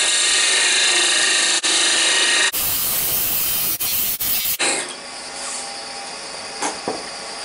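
A wood lathe turns a snowman's neck down to about an inch and an eighth, a loud continuous hissing whine of the tool cutting spinning wood, cut off abruptly several times before dropping to a softer hum.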